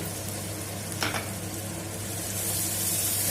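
Onions sizzle steadily in hot oil with curry leaves and fenugreek leaves, a close, continuous frying hiss with a brief stir partway through.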